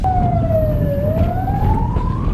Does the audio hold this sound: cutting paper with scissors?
no